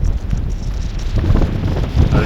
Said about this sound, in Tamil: காற்று பயங்கரமாக அடிக்குது